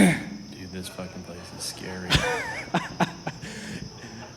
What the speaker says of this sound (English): what's happening is there's some crickets chirping